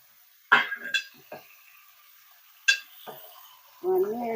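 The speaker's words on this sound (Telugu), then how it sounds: "ఒకసారి కలిపేసుకోవాలి. ఇవన్నీ కలిపేసుకుందాము." Fish pieces, tomatoes and drumsticks stirred together in a pot for a village-style curry, a few separate scraping clinks of a spoon close by, with a brief voice near the end.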